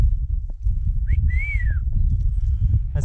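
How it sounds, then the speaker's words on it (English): A person gives a short whistle, a quick chirp followed by a longer rising-then-falling note, over a loud low rumbling background. "That's my yellow belly whistle."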